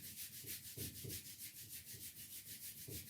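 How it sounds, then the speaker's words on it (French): Palms working against the backs of the hands during a self-massage routine, giving a soft, steady rubbing swish that pulses in a regular back-and-forth rhythm, close and quiet, with no talking. "le dos de la main avec le pouce à l'intérieur pour bien frotter les deux surfaces de la main"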